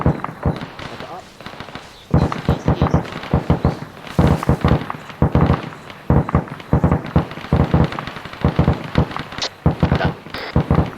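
Rapid rifle fire in a military shooter game, ArmA 3, during a squad exercise: dense bursts of sharp cracks and short volleys of shots, some near and some farther off, with radio-style voices talking over the shooting.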